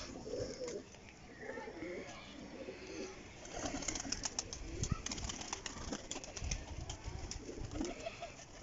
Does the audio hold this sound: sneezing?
no